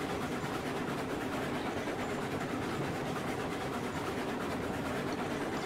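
A freight train moving in the Railroads Online video game near an ironworks gives a continuous, even rumble with faint rhythmic wheel clatter, steady and moderately loud throughout with no speech.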